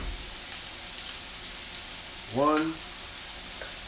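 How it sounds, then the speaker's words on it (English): Roux of fat and flour sizzling in a pan for country sausage gravy, a steady frying hiss throughout with a brief voice counting partway through. "I'm going to make my roux right in here."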